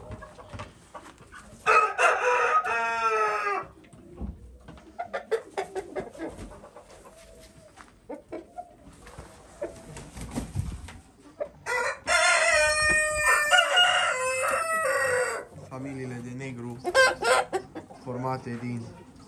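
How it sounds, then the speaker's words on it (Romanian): A flock of five hens and one rooster (a breeding family of black chickens) crowing and clucking, with repeated loud nearby crows and hen calls in bursts. "Din 5 găini și un cocoș, după cum v-am bine obișnuit."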